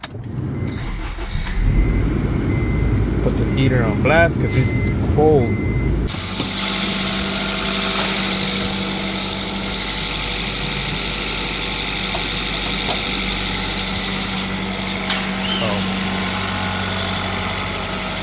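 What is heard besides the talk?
car engine starting and idling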